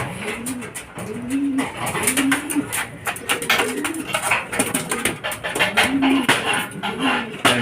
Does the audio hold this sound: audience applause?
no